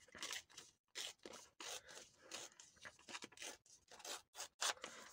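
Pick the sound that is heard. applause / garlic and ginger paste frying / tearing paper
tearing paper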